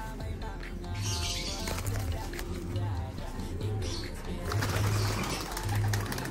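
Pigeons flap their wings in repeated bursts close by, mixed with soft cooing and rustling as they are handled, while someone talks over them throughout.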